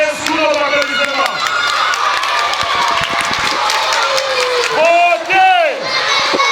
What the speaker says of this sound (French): Elle peut s'élever sous nos applaudissements.